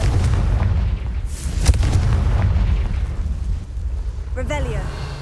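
Explosive Confringo spell blasts in Hogwarts Legacy, a dense rumbling boom with crackling bursts sustained throughout, loud and close, with a brief rising whoosh near the end.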